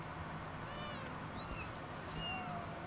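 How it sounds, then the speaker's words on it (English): Cats meow in a video game, three or four short rising mews spaced a moment apart over a quiet ambient background, fairly soft and close. "kitties."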